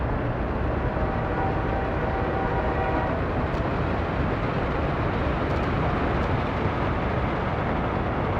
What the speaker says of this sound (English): I hear trains rolling.